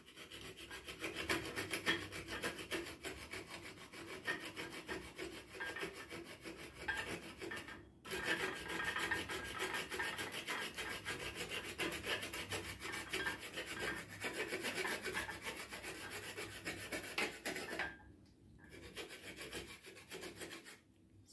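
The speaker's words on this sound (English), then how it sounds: "So I'll be grating my chocolate." Chocolate being grated by hand, a steady scraping rasp that runs continuously with two brief pauses, close and fairly loud, no voices.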